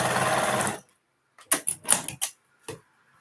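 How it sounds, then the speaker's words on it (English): Sewing machine stitching fabric pieces together for a reading pillow, a short burst of close, loud mechanical stitching in quick uneven pulses after a brief voice. "I'm just sewing these together randomly"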